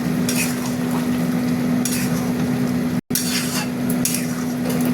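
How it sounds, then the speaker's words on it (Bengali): Potatoes with poppy seed paste are stirred in a pan, a close, steady frying hiss under a low hum, with brief scraping strokes coming in bursts and one sudden cut of silence midway. "এবার নাড়িয়ে দিই।"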